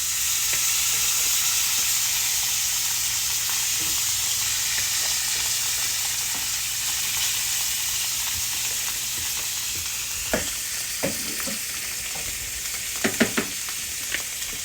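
Meat for a Philly cheesesteak fries on a hot surface with a steady, close sizzling hiss, and scraping taps of a spatula come in sharp clusters near the end.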